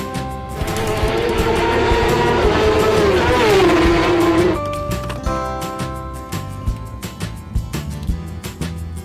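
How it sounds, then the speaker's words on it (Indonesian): Racing motorcycle engine screaming at high revs, one loud sustained whine that rises and then dips as it passes, cut off midway and followed by a quieter stretch of music. "Racing bike. Motor balap."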